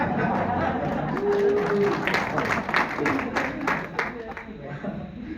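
An audience claps for a speaker at a talk on journalism, scattered applause swelling and then thinning out over several seconds, with some murmured chatter mixed in.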